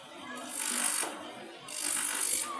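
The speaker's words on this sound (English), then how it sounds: "I've used an orbital sander, go right down to a coarse to a fine sandpaper till I get the finished" An orbital sander works over the willow face of a handmade cricket bat in two close, buzzing passes with a short pause between them.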